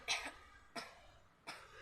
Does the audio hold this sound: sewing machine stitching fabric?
no